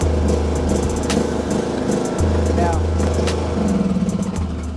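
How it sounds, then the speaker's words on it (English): A formerly broken lawn mower motor running with a steady, loud buzzing drone close by, pulsing slightly, while people talk over it. "we got a functional motor"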